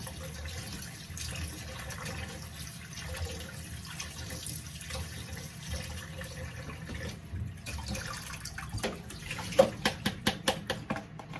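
Clean running water pours steadily from a tap over konjac being rinsed in a sink, a continuous moderate splashing that turns choppier and more broken near the end, with no talking.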